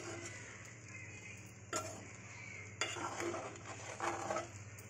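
Mango rice made from leftover cooked rice is stirred in a pan, giving soft scraping and occasional clinks of a spoon against metal over a steady low hum, with no one speaking.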